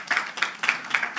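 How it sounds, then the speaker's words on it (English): Scattered claps from a small audience at a youth investment forum, a few separate bursts over a short moment, moderately loud and with no talking. "Let's give a round of applause for"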